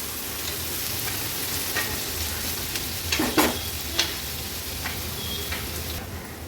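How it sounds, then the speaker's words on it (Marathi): Onion cooking in a pan over a medium gas flame, a steady soft sizzle with a few scraping stirs of a spatula partway through, close and continuous. "कांदा आता आपण गॅसची फ्लेम मीडियम करून त्याच्यावरच शिजवून घेणार आहोत"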